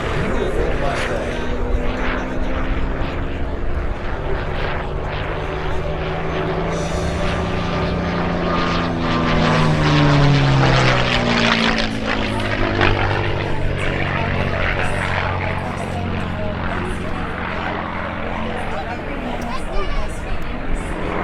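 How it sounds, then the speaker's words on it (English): A P-51 Mustang propeller fighter passes at an airshow, its engine drone swelling and falling with a sweeping pitch shift midway as the plane flies by, under continuous narration and crowd noise. "This rare and beautiful Mustang."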